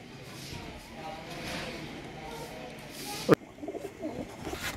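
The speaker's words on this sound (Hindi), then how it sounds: "परच टैडी कबूतर है, नायाब तरीन दोस्तों कबूतर है।" A rare Dubai tail-type breeder pigeon coos softly and repeatedly close by, while a voice talks over it.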